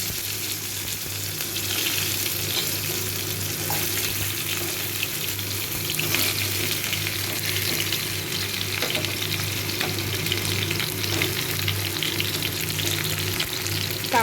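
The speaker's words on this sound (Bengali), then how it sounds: "কাঁকরোলগুলোকে আমি একটু ভেজে নেব।" Spiny gourd (kakrol) pieces fry in a pan of oil tempered with cumin and a dried red chilli. A steady close sizzle runs throughout, with occasional stirring scrapes and no talk.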